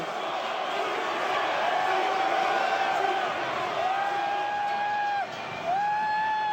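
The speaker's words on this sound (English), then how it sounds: "He's inciting the crowd. This place is going crazy." A Philadelphia Eagles stadium crowd in 2004 roars as a broad, sustained wall of cheering, with whistle-like tones rising above it and a brief dip near the end.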